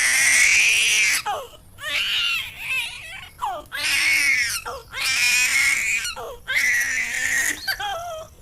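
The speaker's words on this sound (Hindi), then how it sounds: "तभी एक बच्चे की बहुत जोर जोर से रोने की आवाज आने लगी।" A baby cries loudly and insistently in repeated wailing bursts with brief breaths between them, close and alone, used as a sound effect in a spooky story about a haunted apartment.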